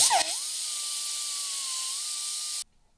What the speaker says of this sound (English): I cut the button off, but I still need to hit it with the grinder.